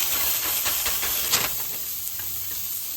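A smashed burger patty sizzles on cast iron, a loud steady hiss of frying with a few sharp bursts as the patty is pressed down.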